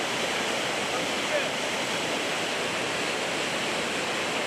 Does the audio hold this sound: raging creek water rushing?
yes